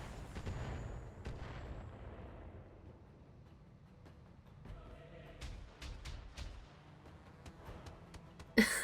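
Automated turrets in the BATTLETECH mech strategy game fire in a series of heavy thumps and bursts, a rumbling volley at first, then sparser impacts and a sharp loud blast at the end.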